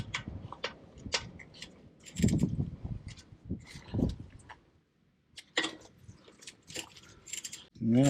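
An 8mm bolt on a Jeep Wrangler JK wheel speed sensor being worked loose, giving close, irregular ratchet clicks and metallic ticks with short pauses between bursts.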